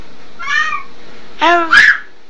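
A small child imitates a cat's meow, giving two short meowing cries followed by a brighter squeaky call, close and fairly loud with no other sound around.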